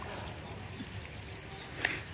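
Water pouring steadily while a potato field is irrigated, a continuous low wash with a brief louder splash near the end and faint voices in the background.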